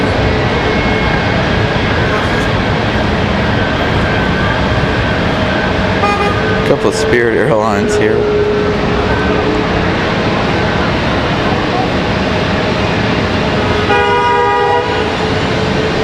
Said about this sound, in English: you're going to hear a lot of horn honking here at the moment